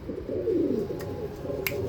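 Pricey pet pigeons coo in low, steady murmurs, a continuous soft burble close by with no talking.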